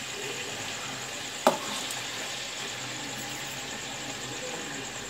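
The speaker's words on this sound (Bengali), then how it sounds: "ভাজতে হবে চিকেনটা রসুনের তেলটা দিয়ে" Chicken fries in garlic-flavoured oil for a pepper chicken dinner, a steady close sizzle running throughout, broken once by a short clatter of stirring or utensil contact.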